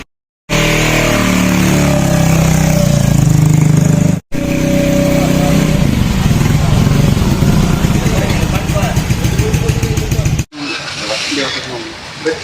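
A household motorcycle engine running close by with a loud, steady, buzzing drone that briefly drops out, carries on, then gives way to a quieter, thinner stretch at the end.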